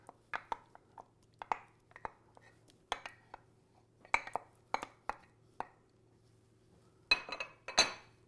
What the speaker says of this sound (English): So we're just gonna stir that into the mixture.